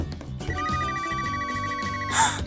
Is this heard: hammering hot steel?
no